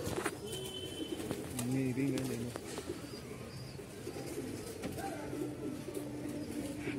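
Pigeons coo softly and repeatedly at close range while people talk over them, with occasional flutters and outdoor background noise during a pigeon-trapping outing.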